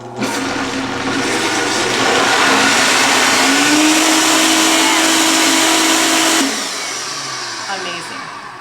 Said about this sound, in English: I'm gonna add a little bit more olive oil. Let's give that a blend.